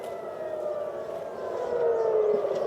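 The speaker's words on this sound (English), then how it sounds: "that is the very, very distinctive sound of air raid sirens there over Tel Aviv" Air raid sirens wailing over Tel Aviv: a sustained, distant civil-defense siren tone drifting slowly in pitch and growing slightly louder, with no voices.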